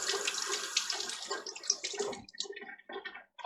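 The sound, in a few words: rinsing lime off a stored egg under running water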